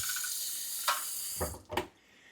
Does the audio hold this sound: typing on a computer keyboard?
no